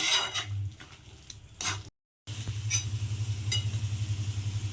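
Chicken liver is stirred and fried in a pan, with scraping spatula strokes and metallic clatter over a steady low frying hum that pulses rhythmically after a brief silent gap.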